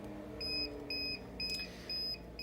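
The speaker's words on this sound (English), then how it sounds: "this will illuminate, blink, it'll also beep. You can hear the audible beep as well" A mattress unit's control panel alarm sounds a steady series of short, high electronic beeps, four or five evenly spaced pulses, faint over low background hum.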